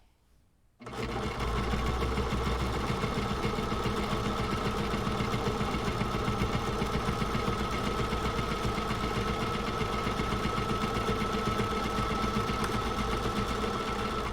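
A sewing machine stitching a bag starts up after a moment of quiet and then runs at a fast, steady, mechanical chatter. It stays loud and close without pause.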